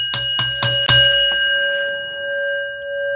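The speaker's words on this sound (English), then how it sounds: "Ring that bell for JR9." A bright bell is struck four times in quick succession, then a final strike rings out and sustains in a long, clear decaying tone, close and loud with no talk over it.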